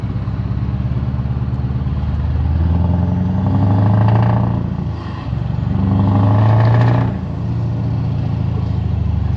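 A Scania R500 V8 truck under way, its loud exhaust droning deeply near the listener and swelling twice as the driver drops gears and accelerates, with no voices.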